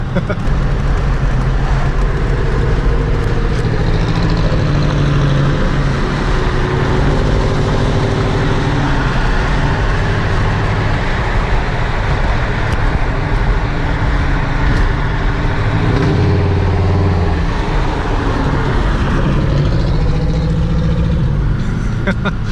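A Pontiac Grand Prix GTP's loud engine runs steadily close by, a heavy, truck-like rumble that holds for over twenty seconds.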